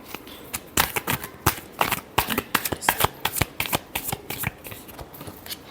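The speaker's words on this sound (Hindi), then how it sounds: "Last shuffle." Tarot cards being shuffled by hand, a steady run of crisp riffling flutters with short pauses between bursts, close and fairly quiet with no talk over it.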